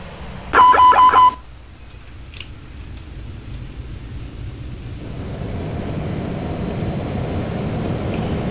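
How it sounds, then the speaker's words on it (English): Boeing 757 jet engine start in a flight simulator game: a brief electronic warning tone sounds first, then a low broadband engine rumble builds and holds steadily. No one speaks. "So we'll let that engine start up and we should be good after that."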